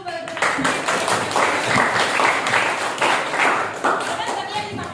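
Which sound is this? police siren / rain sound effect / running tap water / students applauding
students applauding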